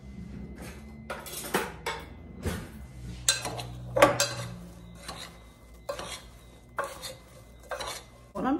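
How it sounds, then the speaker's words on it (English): A spoon stirs apples with ground cloves and a dash of salt in a dish, making a close series of irregular scraping and clinking strokes against the dish with no talk. "and then I'll stir that all up"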